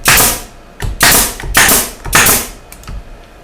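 Four sharp, loud snaps from a pneumatic stapler firing into pallet wood, spaced unevenly over a few seconds, with no talking.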